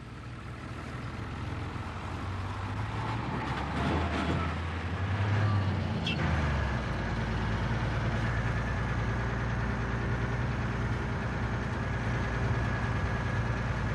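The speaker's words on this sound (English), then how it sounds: "it passed a distinctive purple and white lorry" A purple and white lorry drives past an armoured security van on the main trunk road between Shrewsbury and Warrington. A steady, rumbling heavy-vehicle engine swells as it passes around the middle, then holds a continuous drone.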